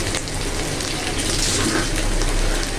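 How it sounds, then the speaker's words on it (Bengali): Ginger frying in a pan for a Bengali beef kala bhuna, a dense steady sizzle that stays loud and even throughout, with no talking. "আমি আদাটা ভাজছি।"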